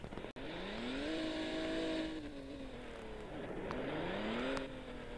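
A car driven in the Roblox game ERLC, its engine note rising and falling through revs and gear changes, steady and continuous with a brief cut near the start, no talking.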